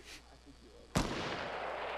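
A single sharp gunshot in an online shooter game, a sudden loud crack followed by a sustained noisy roar of gunfire and ambience, with quiet background before it.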